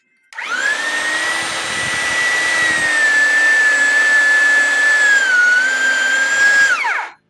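A VEVOR electric pipe threading machine's motor whines loudly and steadily for several seconds, unloaded, pitch dipping slightly near the end before it spins down and stops.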